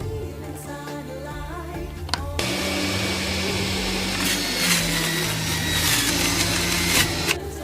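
A Sage Nutri Juicer Pro motor starts up and runs steadily while juicing cabbage, with cucumber and lime going in too. It is a loud, continuous whine with harsh grinding and crunching texture as the produce feeds through.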